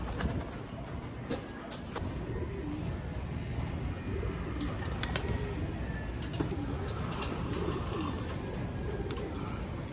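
Racing pigeons coo softly and repeatedly outdoors at a loft, their low calls rolling over a steady background hiss with occasional faint chirps.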